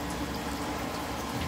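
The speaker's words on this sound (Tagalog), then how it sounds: "Ngayon ibubuhos ko naman yan dito sa mixing bowl." Liquid poured into a mixing bowl while preparing a bangus (milkfish) marinade, a steady, continuous wash of splashing and running liquid heard up close, with no talk over it.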